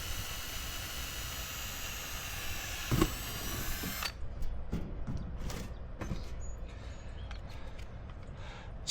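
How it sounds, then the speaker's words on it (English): A power drill bores through diamond plate metal, a steady high whine for several seconds that cuts off abruptly, followed by a few scattered knocks and clanks. "So I'll tell you something that I've learned about drilling diamond plate."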